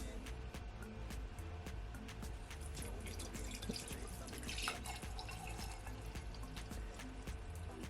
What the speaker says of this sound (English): So now I'm gonna pour it all in.